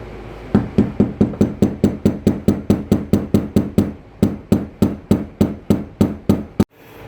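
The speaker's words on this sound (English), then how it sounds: "we need to take off the ring around the fuel pump. So flathead screwdriver and a mallet." A flathead screwdriver struck by a mallet taps off the fuel pump ring on a 2005 GMC Yukon, giving a long, steady series of sharp metallic knocks with a short pause midway and one final hit.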